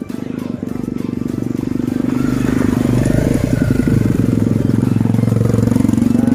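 Motorcycles climbing an uphill road in Plentong, Johor, Malaysia, engines droning steadily and growing louder as they approach, with a dense rumbling tone and a passing revving flourish midway.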